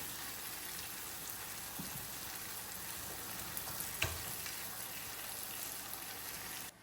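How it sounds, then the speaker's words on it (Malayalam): Karimeen (pearl spot) fish fries in a pan, Kerala style, a close, steady hiss and crackle of hot oil with a couple of brief knocks. "ഇവിടെ ഇതാ ഫിഷും നല്ലോണം പൊരിഞ്ഞു വന്നിട്ടുണ്ട്"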